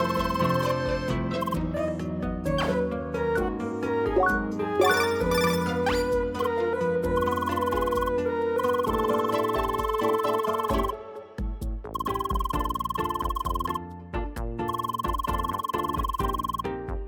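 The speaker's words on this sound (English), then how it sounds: "It's a new day, so it's time for a new round of phone calls." A cheerful melodic phone ringtone from the video game CrossCode plays continuously with no voices, its repeating tinkling notes steady and prominent.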